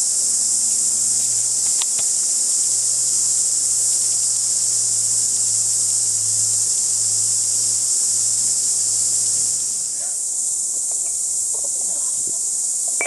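A dense, steady cicada drone fills the air for the whole stretch, loud and continuous, with a low hum running underneath and a few faint knocks, in Karangahake Gorge, New Zealand.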